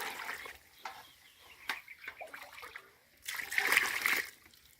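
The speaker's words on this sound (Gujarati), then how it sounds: "તો આપણે એની અંદર પાણી મિશ્ર કરવાનું છે." Water splashes and trickles into a tub of cow dung as it is poured and mixed, with scattered wet slaps followed by a louder, sustained splashing pour near the end.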